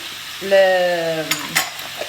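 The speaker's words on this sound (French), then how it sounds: "Je vais baisser le feu et je vais ajouter les poivrons et les oignons." Peppers and onions hit a hot pan and are stirred, a close sizzle with a brief voice-like tonal murmur early on, then a few sharp spatula scrapes and knocks.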